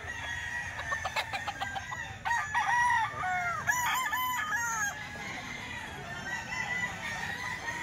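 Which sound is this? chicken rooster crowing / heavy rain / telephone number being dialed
chicken rooster crowing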